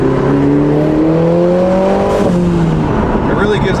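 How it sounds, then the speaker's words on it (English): A Lotus Emira four-cylinder engine with a Valvetronic Designs exhaust revs with a smooth, droning exhaust note, rising and falling in pitch over a few seconds, loud and close. "it really does have a good tone to the exhaust as well"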